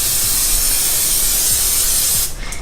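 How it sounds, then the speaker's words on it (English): Canola oil sprayed from an aerosol can in a kitchen, a steady close hiss lasting over two seconds before it cuts off. "I just take some canola oil, I think this is canola oil, spray"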